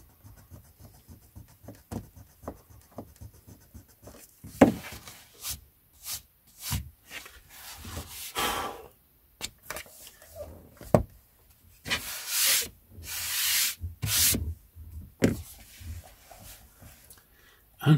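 Pencil writing is rubbed out of a Puffin storybook page with an eraser, giving close, uneven bursts of scrubbing and rubbing, at first light and rhythmic and then longer and harsher strokes, with no talking.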